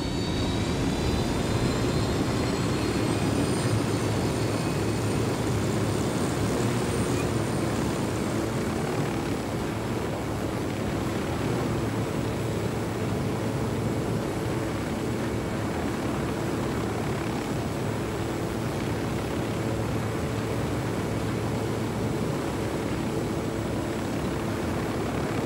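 Steady aircraft drone in Ghost Recon Wildlands, an engine and propeller roar held loud and unbroken near an airstrip, with no talk over it.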